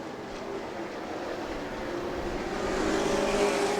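Stock cars at a weekly short-track oval race at New Smyrna, a dense roaring pack of engines sweeping past and swelling slightly louder, with no break in the steady wall of noise.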